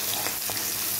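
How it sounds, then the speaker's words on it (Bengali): Spiced curry with onion and turmeric sizzles and fries vigorously in a pan, a steady close crackle with no talk. "একটু তরকারিটা ভালো করে কষিয়ে নেব"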